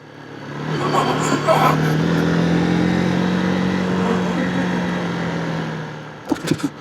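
Motorbike riding along the road to the Cabo Espichel lighthouse in Portugal, a steady engine drone with wind rush that swells and eases, ending in a few sharp knocks.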